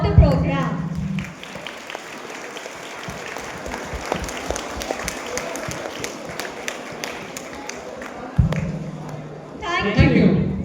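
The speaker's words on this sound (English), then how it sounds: "please give a big round of applause to each and every member of" Students and guests clap at a school farewell for a graduating batch, a long, steady round of applause with scattered sharp claps, framed by brief talk at the start and end.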